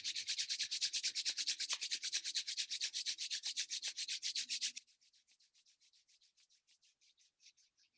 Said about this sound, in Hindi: दोनों हाथ को रब करेंगे।